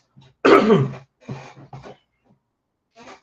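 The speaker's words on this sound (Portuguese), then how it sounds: "Deu um pigarro agora?" A person clears their throat with one loud, rough burst, followed by a few shorter, softer throat sounds, then quiet.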